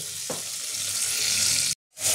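Chicken pieces frying in oil in a home kitchen, a bright continuous sizzle close by, with a soft stirring knock early on and a short gap before the sizzling returns.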